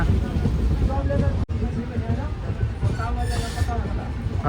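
A train rolls into a station with a steady rumbling drone and brief squeal of wheels, heard under crowd babble and nearby voices, with a short sharp break partway through.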